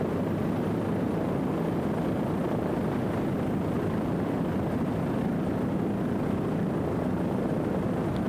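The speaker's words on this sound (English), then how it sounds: "Rumor Has It powered by two 500 horsepower Mercury inboards" A 35-foot Superboat Limited racing powerboat with two 500 horsepower Mercury inboard engines roars in a steady, loud, unbroken drone during an offshore race.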